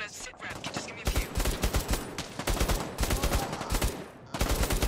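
Rapid bursts of gunfire from shooting in the PlayStation VR game Bravo Team, loud clustered volleys of sharp cracks with brief pauses between runs, close and dominant.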